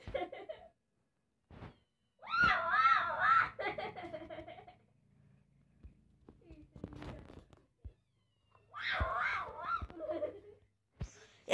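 Loud, wavering cat yowls come in two long bursts, with a person laughing and making noises, and quiet gaps and rustling in between.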